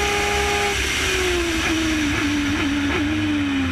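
A Formula Gulf race car with a Suzuki GSX-R motorcycle engine and six-speed sequential gearbox accelerates hard, its loud steady engine note holding and wavering slightly through brief shifts.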